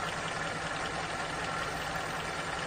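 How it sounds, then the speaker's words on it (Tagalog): A Toyota 5K engine with a 5-speed gearbox idles in a pure stainless owner-type jeep, a close, even, continuous rumble with a steady low hum and no break. "Ayan po ang andar ng makina. Ni Toyota 5K 5-speed."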